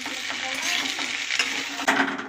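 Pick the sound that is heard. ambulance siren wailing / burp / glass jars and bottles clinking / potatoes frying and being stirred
potatoes frying and being stirred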